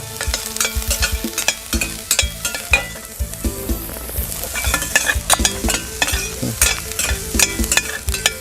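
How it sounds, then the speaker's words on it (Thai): Garlic, carrot and onion sizzle loudly in a hot pan as a utensil scrapes and stirs them in quick, irregular strokes. "ผมจะผัดสามสิ่งนี้คือกระเทียม แครอทแล้วก็หัวหอมให้หอมก่อน"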